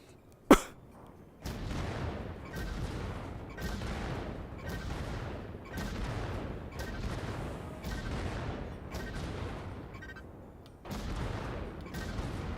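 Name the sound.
mech cannon fire in video game Vox Machinae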